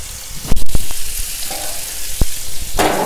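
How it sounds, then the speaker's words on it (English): Lamb browning in a hot pan for a roast lamb dinner gives a steady, close sizzle and fry hiss, broken by a few sharp clacks and bumps of the meat and pan, with a louder burst of spitting near the end. "I'll let the other side get brown as well."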